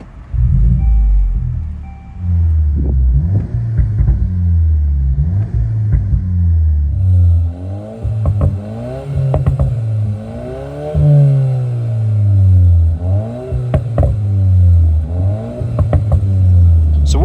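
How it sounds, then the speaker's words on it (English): Exhaust note of a 2024 VW Golf GTI fitted with an AWE track exhaust and a Unitronic Stage 1 tune, a loud close-up run of rising and falling revs with deep rumbling pulses that continues steadily throughout. "So this is the AWE track exhaust."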